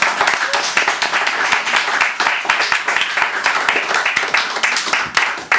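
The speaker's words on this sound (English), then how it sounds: "more applause please for Lisa Kelly" Audience applause after a poetry reading, a dense steady patter of many hands clapping close by, sustained for several seconds before tapering at the end.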